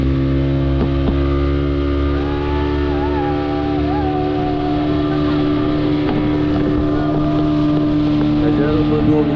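Motorboat ride off Shivrajpur beach near Dwarka, a steady engine drone with wind buffeting the microphone throughout, close and continuous.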